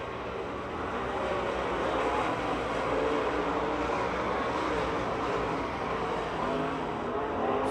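Race cars roar down the front straight at Pennsylvania Motor Speedway near Pittsburgh in a steady, loud engine drone that stays dense and constant throughout, with no distinct passes standing out.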